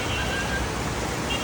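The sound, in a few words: rain falling on a city road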